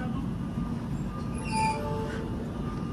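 A train at Shegaon station platform, a steady low rumble with brief high wheel squeals partway through, heard from nearby.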